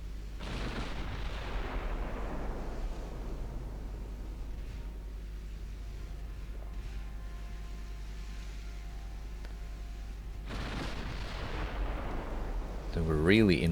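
Naval guns fire high-explosive shells in the warship game Ultimate Admiral Dreadnoughts, with two heavy booming salvos, one at the start and one near the end, separated by a long low rumble of battle ambience.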